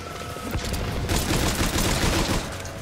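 Mortar barrage in Metal Gear Online: dense, continuous rumbling explosions and gunfire crackle, loud and sustained throughout with a sharp surge midway, no voices over it.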